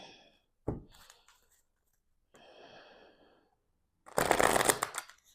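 A deck of cards being shuffled close by in a few short riffling bursts separated by quiet gaps, with the longest, loudest shuffle at the end.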